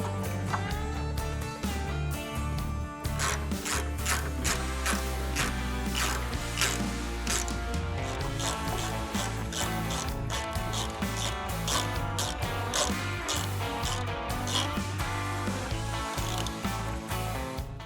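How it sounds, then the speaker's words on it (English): Hand ratchet clicking steadily as screws are tightened during a Harley-Davidson Touring/Softail floorboard install, a close, dense run of rapid pawl clicks lasting throughout with no talking. "go ahead and reinstall your top screw. Get it started, get your bottom one started down here"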